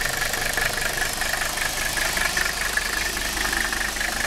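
A Mercedes 300SD diesel engine idles cold after sitting for weeks, giving a steady, close, rhythmic clatter with a constant knocking drone and no voices.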